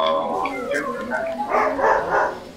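A pet dog indoors in a room during a charity gaming stream, giving a run of close, loud yips and barks that rise toward the end, with voices in the background.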